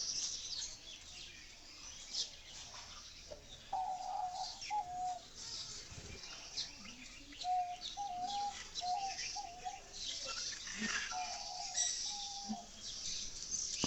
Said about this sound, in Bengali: অস্ট্রেলিয়ার মিনি ঘুঘু এগুলো।